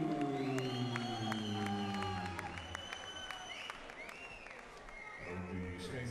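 A crowd at a fight event claps and cheers as a fighter is introduced, with whoops and shouting voices layered over the applause and a ringing, echoing hall tone.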